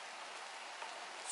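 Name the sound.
rain falling on garden swing and furniture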